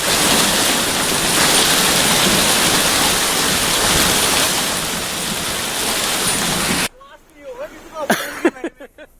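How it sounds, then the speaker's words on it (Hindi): Heavy rain pours down steadily in Almora, Uttarakhand, a dense continuous hiss for most of the stretch before cutting abruptly to a quieter scene with a voice speaking. "कई स्थानों पर बारिश हुई"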